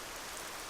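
Steady rain pouring down during outdoor training, a dense even hiss that is loud and close and runs without a break through the short moment, with no voices over it.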